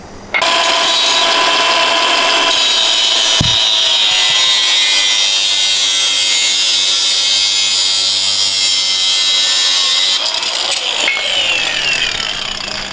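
A heater core hose on a Nissan S14 engine is being cut with a loud, continuous, close-up rasping and sawing noise that runs almost without a break. A brief knock comes partway through.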